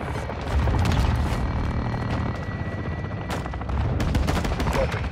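Heavy aircraft gun run in Call of Duty Modern Warfare II, a loud continuous barrage of rapid automatic fire and booming impacts over a droning engine, with sharp bursts near the end.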